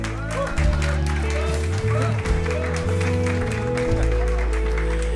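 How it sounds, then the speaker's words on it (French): A church congregation claps for the fathers during a service, a broad continuous crowd applause running under sustained organ or keyboard chords with some voices mixed in. "Est-ce qu'on peut applaudir les papas?"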